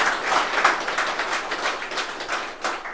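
Audience clapping for teachers at a felicitation event honouring newly selected BPSC teacher candidates, a steady, fairly dense patter of claps lasting throughout with no talk over it.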